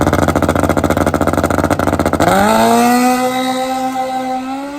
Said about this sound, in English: Look at this long, mean Nitrous street tire bike.